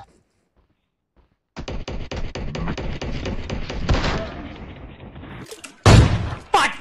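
Rapid bursts of gunfire from the PUBG battle royale game, a dense rattling volley lasting several seconds followed by a louder close shot, with a voice briefly audible.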